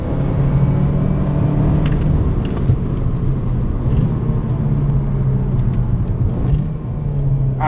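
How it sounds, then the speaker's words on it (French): A Fiat Abarth 595 Competizione with a 160 hp engine and sporty exhaust drones loudly and continuously during heel-toe downshifts, with small exhaust pops faintly audible over the steady engine rumble. "Ah, les petites pétarades là"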